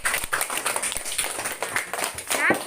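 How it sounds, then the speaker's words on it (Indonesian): Students in a classroom clap for a group, giving a short burst of scattered hand claps mixed with speech. "Kasih tepuk tangan dulu buat kelompok 3 ini."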